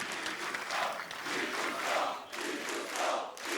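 A large arena crowd at a CS:GO esports tournament in Katowice roars and chants in rhythmic, swelling waves, loud and continuous throughout.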